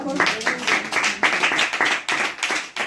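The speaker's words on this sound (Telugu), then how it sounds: "ఒకసారి చప్పట్లు కొట్టండి." A congregation claps at a cottage prayer meeting: many hands beating in a quick, steady rhythm, close and loud, keeping up throughout.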